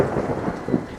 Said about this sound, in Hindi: बारिश और तेज हो गई, बिजली इतनी जोर से कड़क रही थी